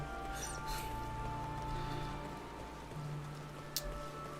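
Rain falls in a forest in the video game Final Fantasy XIV, a faint, steady patter under a low game background hum with a soft tonal drone and one sharp tick near the end.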